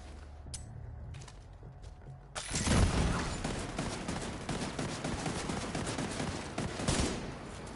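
A deployable turret in the co-op shooter Division 2 opens up after a quieter lead-in, pouring out a loud, sustained stream of rapid fire with occasional heavier bursts.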